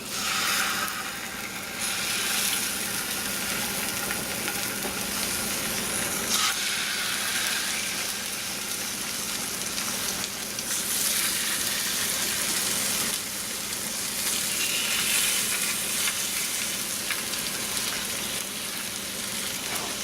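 Brook trout fries in a pan, a loud, continuous close-up sizzle like rushing rain that swells and eases slightly over twenty seconds.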